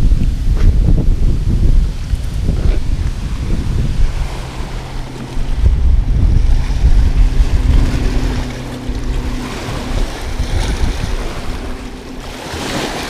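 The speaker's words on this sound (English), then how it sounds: "with these big wakes crashing up on the wet rocks" Big boat wakes crashing onto wet rocks along the shore of a small South Dakota lake, loud surging washes of water rolling in repeatedly under gusty wind noise.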